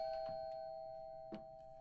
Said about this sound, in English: At least he was courteous enough to, you know, hit the doorbell.